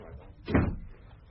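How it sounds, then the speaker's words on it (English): A single door is shut in a quiet room, one soft muffled thud midway through with low background hush around it. "shut the door"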